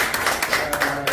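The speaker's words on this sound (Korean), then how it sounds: "다시 박수 한번 해보시죠." An audience at a photography lecture claps together in a brief, dense burst of applause heard up close.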